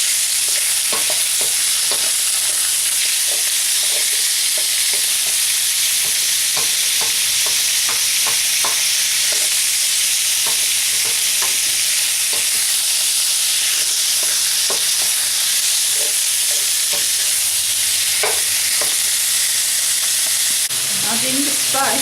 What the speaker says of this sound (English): You need to keep the pork moving so that it's sealed, but we don't want it to get any colour on it.